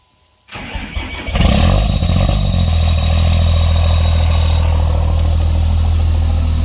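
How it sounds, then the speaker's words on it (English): A truck engine with a failing rod bearing cold-starts, cranking briefly before catching and settling into a loud, steady idle with a harsh, noisy knock running underneath. "Rod bearing's screaming."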